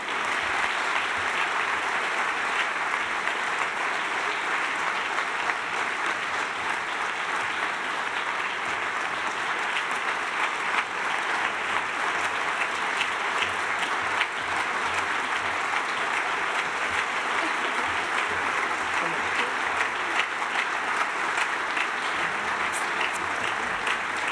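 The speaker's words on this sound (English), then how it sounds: "Round of applause for them, if you would." Steady round of applause from a gala audience, dense even clapping sustained for over twenty seconds without a break, fairly close and full.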